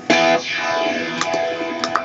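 An electric guitar plays through a Blues Driver overdrive pedal, giving a loud, gritty strummed chord that rings out and decays, followed by a few lighter picked notes.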